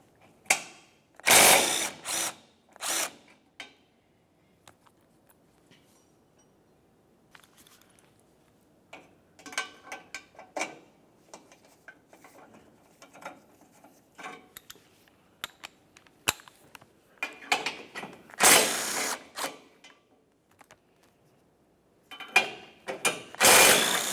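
Ratchet clicking as 12mm bolts are removed from the front bumper impact absorber of a 2006-2011 Honda Civic, with bursts of quick ratcheting separated by quieter pauses and occasional tool handling.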